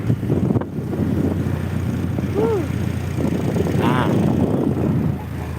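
Steady, loud wind rumbles and buffets the microphone on a moving motorbike during a family ride, a continuous low roar throughout with a few brief tonal chirps over it.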